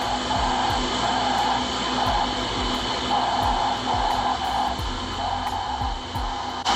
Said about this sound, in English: Now once it vacuums all the way out, it's gonna turn on as far as the exposing time itself.